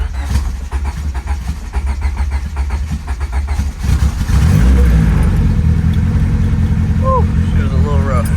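A 1998 Honda Civic turbo engine, fitted with a newly replaced transmission, cranks and catches in the cold, then runs loud and uneven close by, with a surge partway through and a person speaking over the rough idle.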